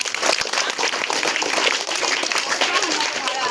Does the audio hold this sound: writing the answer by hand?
no